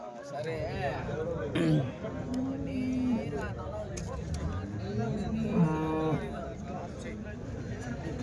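Several cows moo repeatedly, low drawn-out calls overlapping, amid background chatter and bustle of the crowded weekly Sunday cattle market at Chintamani, India.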